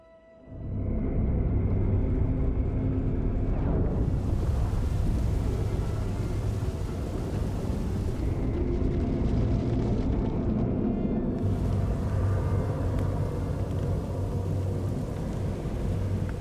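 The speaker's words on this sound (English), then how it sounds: "Firing up the engines." Spaceship engines roaring to life in Star Wars: The Old Republic, a loud, sustained low rumble that swells after a quiet first second and holds steady, with brief shifts in its upper hiss partway through.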